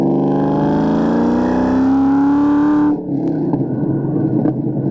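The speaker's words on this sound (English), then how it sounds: "Man, this car just sounds so good." A 2003 Ford SVT Cobra engine hums close by, its pitch climbing steadily before dropping abruptly into a lower, rougher idle.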